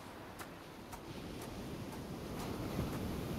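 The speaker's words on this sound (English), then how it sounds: "I never grew accustomed to the air up here. It gusts senselessly whichever way it pleases." Wind gusts through the upper world in the video game Hades, a steady, rushing roar that slowly builds, with faint regular ticking beneath it and no voices.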